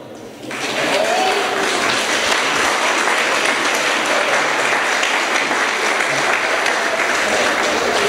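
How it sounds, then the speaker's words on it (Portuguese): Church congregation bursting into sustained applause after a brief quiet start, a dense, even roar of many hands clapping in a large room that continues steadily to the end. "dá um aplauso ao Senhor."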